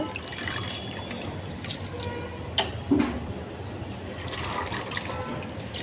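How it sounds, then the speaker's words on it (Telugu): Amaranth leaves are handled in water, giving a soft continuous trickle and slosh, close and moderately quiet, with a few slightly louder splashes in the middle. "తోటకూర శుభ్రంగా కడిగి నీళ్ళల్లో పెట్టా"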